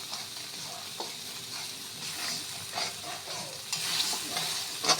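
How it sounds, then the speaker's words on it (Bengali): Spice masala with red chilli is stirred and sautéed in a pan over lowered gas, giving a soft, steady sizzle with occasional scraping strokes, close and fairly quiet with no talk. "এখন ভালো করে আমি মশলাটা কষিয়ে নিব।"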